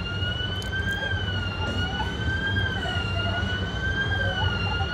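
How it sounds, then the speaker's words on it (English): A wailing siren rises and falls steadily over a constant low rumble of traffic or machinery, sounding moderately distant, heard at the Carowinds amusement park. "Does that sound like a siren to you?"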